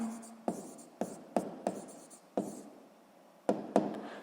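Pen or chalk writing by hand during a sixth-grade maths lesson, heard as a series of sharp taps and short scratchy strokes in an irregular rhythm, close and fairly clear.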